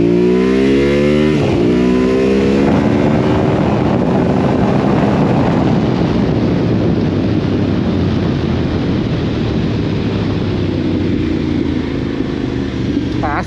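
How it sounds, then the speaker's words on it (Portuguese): A Yamaha Ténéré 700 Rally motorcycle pulls hard in second gear, its loud exhaust rising in pitch to around 9000 rpm and then holding a steady, strong roar through to the end. "já ouve-se aqui o escape a cantar"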